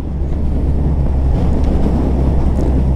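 Loud, constant low roar of wind rushing past a motorcycle rider, heavy and steady throughout, like air buffeting someone riding at speed.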